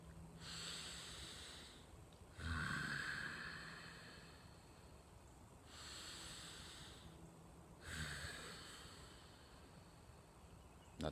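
Slow, deep breaths come in long, soft airy swells, each inhale and exhale drawn out and close, repeating several times in a quiet room with no speech.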